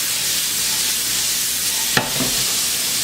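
Onions seasoned with fresh cracked pepper sweat in a pan over slightly too-high heat, giving a steady, even sizzling hiss that runs throughout, broken once by a brief clatter of stirring.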